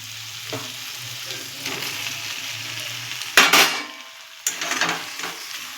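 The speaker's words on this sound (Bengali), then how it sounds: "ডিমের ঝুড়োগুলো দিয়ে এবার এটা আমি নাড়াচাড়া দেবো। এবার এর মধ্যে আমি ইঁচড়গুলো দিয়ে দিই।" Egg crumble and young jackfruit stirred in a hot pan, a steady sizzle running throughout with scraping stir strokes near 3.4 s and again near 4.5 s.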